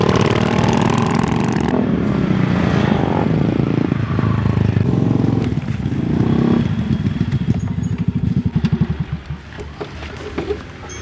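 A motorcycle engine runs steadily while riding, then slows to a loose, chugging idle near the end, loud and close with no talk over it.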